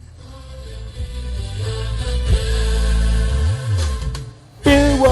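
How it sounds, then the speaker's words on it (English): Bass-heavy music thumps through a BMW 330i's Harman Kardon car audio system, its deep pulsing beats swelling and dipping, then louder and brighter toward the end. "you do have a thumping audio system that sounds like this"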